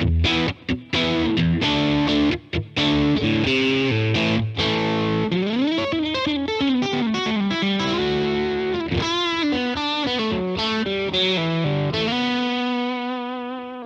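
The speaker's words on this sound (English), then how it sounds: "use the button, it's called the Cali function, which I guess makes it sound more like a boogie. It cuts the mids a little bit." Distorted electric guitar through a FlyRig pedal with its Cali function engaged, a boogie-like tone with slightly cut mids, playing loud continuous chords and melodic lines alone, ending on a ringing sustained note.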